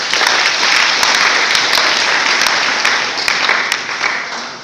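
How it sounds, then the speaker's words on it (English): An audience at a tourism day celebration claps steadily, a dense and loud wash of applause that holds for several seconds before tapering slightly. "Let's clap for them."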